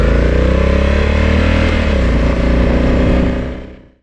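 A motorcycle with an automatic DCT transmission rides at a steady, loud engine drone with slight pitch changes as it shifts, then fades out quickly at the end.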